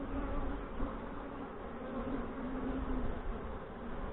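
Honeybees buzz steadily inside an open hive in northwest Wisconsin, a dense, continuous drone close to the microphone with no talk over it.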